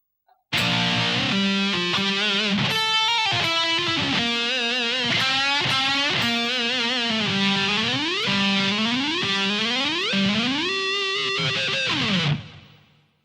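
Heavily distorted electric guitar plays a solo at a slow tempo, with sustained notes, repeated bends and sliding pitch sweeps ringing loud and continuous for about twelve seconds before cutting off.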